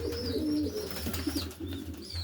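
Racing pigeons coo softly and repeatedly nearby, low throaty calls over a quiet background, with a few higher chirps mixed in.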